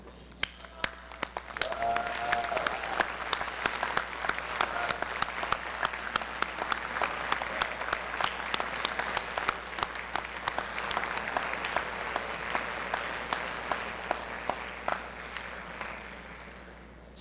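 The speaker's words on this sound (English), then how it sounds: "Students, please rise and face the people most important in your life and applaud them" A large commencement audience at a university graduation ceremony breaks into sustained applause, many hands clapping densely and steadily for most of the span before tapering slightly near the end.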